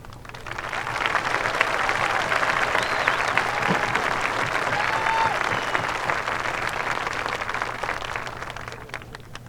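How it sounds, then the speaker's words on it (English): Sustained applause from a graduation audience in a high school ceremony hall, a dense steady wash of many hands clapping for the full length at moderate volume, with faint crowd murmur beneath. "all of us need to applaud you for that"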